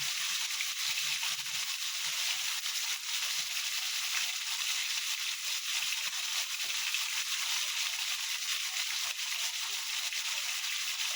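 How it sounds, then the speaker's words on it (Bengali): A steady, bright sizzle of katla fish frying in hot oil crackles continuously and evenly throughout, with no voices. "মাছটা বেশি কড়া করে ভাজবেন না, হালকা ভেজে নেবে।"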